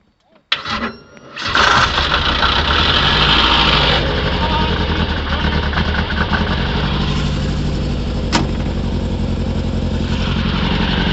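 A smoky, oil-soaked Polaris RZR Pro R engine cranks with a click and whir, then catches with a loud roar and settles into a steady, close, rough idle with mechanical rattle; a voice talks briefly.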